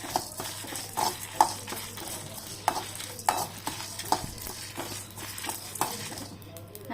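Spices being dry-roasted for a chicken dish, stirred in a pan with a spoon, giving a steady soft scraping and rustling with repeated sharp clinks of utensil on metal and no talk.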